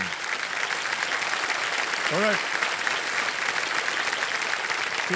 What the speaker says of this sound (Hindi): तालियों के साथ उनका